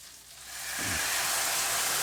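Steak and Guinness pie filling going into a hot pan, a soft hiss building within a second into a steady, fairly loud sizzle that holds to the end.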